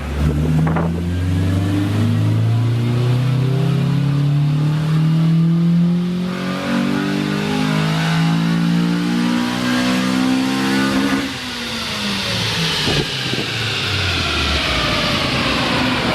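A Honda Civic Si with a swapped B18C engine revs up through a third gear pull on a dyno, a loud, steady climbing engine roar that rises in pitch for about eleven seconds before backing off.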